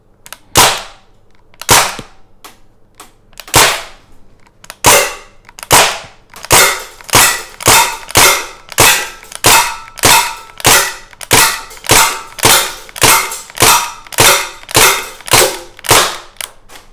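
Loud sharp bangs from a Crosman DPMS M4 SBR semi-auto CO2 air rifle, a few spaced shots at first, then a rapid steady series of cracking reports, close and alone with no talk.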